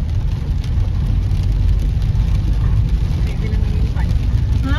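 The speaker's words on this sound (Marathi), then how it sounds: "खूप पाऊस आहे." Heavy rain pours down at a village fair, a dense, loud, continuous roar with deep rumbling throughout and no pauses.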